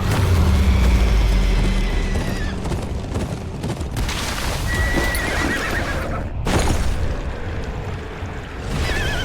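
Horses whinny and neigh loudly in the video game Game of Thrones Kingsroad, over a dense, rumbling backdrop of hooves and commotion, with sharp booming hits breaking through.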